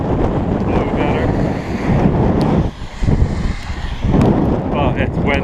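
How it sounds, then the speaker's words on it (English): Strong wind gusts roar continuously against the microphone outdoors in Reykjavik, Iceland, loud and buffeting throughout, with brief lulls and fresh surges. "It's windy here."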